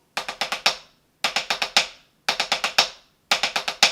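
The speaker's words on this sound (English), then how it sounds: "Speed them up, you get a more typical roll sound." Fast snare drum rolls played as 5-stroke and 7-stroke groupings: four crisp bursts of rapid, evenly spaced strokes, each ending on an accented ringing hit, separated by short silences, close and clear.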